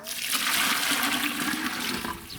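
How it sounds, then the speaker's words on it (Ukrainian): Water is poured over garden treatment powder in a plastic container to dissolve it, making a steady, close rushing and splashing stream that runs continuously without pause. "І водою заливаємо, роз чиняємо."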